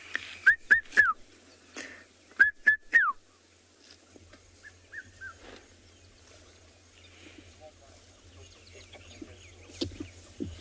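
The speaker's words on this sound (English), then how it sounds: "You can hear the red-chested cuckoo." A red-chested cuckoo calls at Thornybush, giving two clear bursts of rising-and-falling three-note whistles, then fainter, scattered calls over a low steady hum in the open bush.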